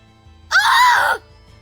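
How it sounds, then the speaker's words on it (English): A single female-sounding scream from just outside in the Tales of Zestiria video game, loud and sustained for about half a second, rising then falling in pitch, standing alone against a quiet background. "A scream? Right outside!"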